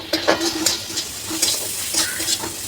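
Spices with a pinch of turmeric frying in a pan, a steady soft sizzle with rhythmic stirring scrapes recurring every half second or so.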